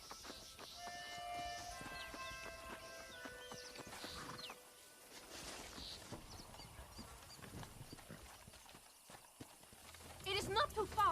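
Horses pull a stagecoach in the Western video game Red Dead Redemption, their hooves clip-clopping in a steady rhythm while people talk over them.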